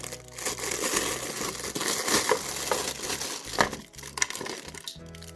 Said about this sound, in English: So they come in the plastic bag as usual